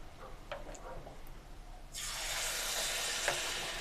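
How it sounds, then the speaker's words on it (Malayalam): Batter-dipped potato pieces drop into hot oil and burst into a loud, steady sizzle midway, preceded by a few quieter clinks and scrapes, close up with no voices. "നന്നായിട്ട് ഇതൊന്ന് ഇങ്ങനെ ഒന്ന് മാവിൽ മുക്കി എടുത്തിട്ട് നമുക്ക് എടുത്ത എണ്ണയിലേക്ക് നമുക്ക് ഇട്ട് കൊടുക്കാം."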